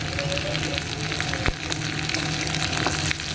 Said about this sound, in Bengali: আলুগুলো একটু লাল হোক ততক্ষণ এটাকে ভালো করে ভাজবো